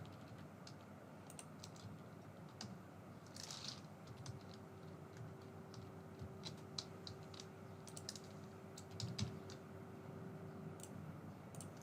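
Test card details typed on a computer keyboard, a run of quick, light key clicks in irregular bursts with brief pauses, close by over a quiet background hum, no voices.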